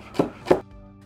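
Two crisp, close knife cuts through celery into thin slices on a board, quick and evenly spaced, followed by quiet.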